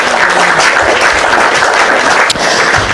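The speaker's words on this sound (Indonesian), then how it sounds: "Tepuk tangan buat Yesus." Applause from a crowd at an Indonesian interfaith discussion event, a steady dense wash of clapping lasting throughout, loud and continuous.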